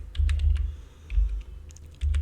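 Typing on a computer keyboard while entering text in MS Word, quick irregular key clicks in short bursts over a low background hum, with no talking.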